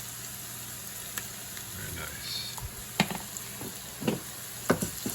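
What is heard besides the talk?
vegetables frying in tomato paste in a pan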